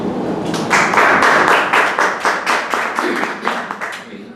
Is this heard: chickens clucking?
no